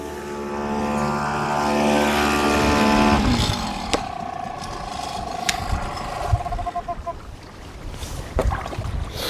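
A sailing yacht's engine drones steadily with a tonal hum, then is switched off and winds down around the third second, leaving wind, water and scattered knocks aboard.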